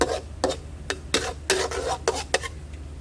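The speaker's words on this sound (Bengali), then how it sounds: "ডালটা এখন কষানো হচ্ছে" Mung dal being stir-fried in a pan, with a spoon scraping and clinking against the metal in quick repeated strokes over a soft background sizzle.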